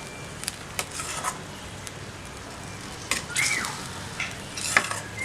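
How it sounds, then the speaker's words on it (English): Crab green masala sizzles and fries in a pan while a spoon stirs it, with steady crackling and a few sharp scrapes and clinks of the utensil against the pan. "So let us stir well and fry this for about 5 minutes."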